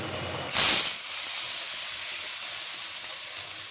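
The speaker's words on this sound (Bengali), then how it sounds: "এবারে আমি আলুটা একটু ভেজে নিই" Potatoes dropped into hot oil in a pan, a sudden loud sizzling burst that settles into a steady close hiss of frying.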